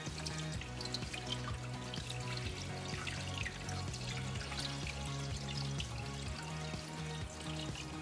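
Water runs and trickles into a watering can being filled, a continuous close pour with some dripping and sloshing that goes on steadily, with no voices.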